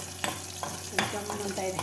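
Curry leaves splutter in hot oil while tempering a tur dal sambar, giving several sharp, close pops and crackles over a steady frying sizzle.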